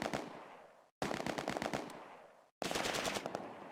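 A Bren light machine gun rattles out three sustained bursts with brief pauses between them, set in Close Combat: A Bridge Too Far at Arnhem.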